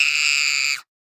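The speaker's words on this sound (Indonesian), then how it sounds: "teriakan itu terdengar dari ujung koridor" A loud, sustained high-pitched scream from the end of a corridor, held steadily for most of a second before cutting off abruptly into silence.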